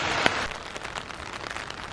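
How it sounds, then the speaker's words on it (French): Steady rain falls in a park near Tokyo, a soft, even hiss of drops with one sharper splash early on and no voices. "Et cette pluie qui ne veut pas cesser."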